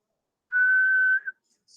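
One person whistles a single steady, sustained high note lasting under a second, clear and close against silence, followed by a brief faint chirp.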